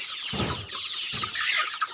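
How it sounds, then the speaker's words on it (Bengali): Chickens on a poultry farm cluck in a busy flock, with two louder low bursts standing out against a steady high chatter of birds nearby. "তাই আমি মুরগিগুলো আপনাদেরকে দেখাচ্ছি"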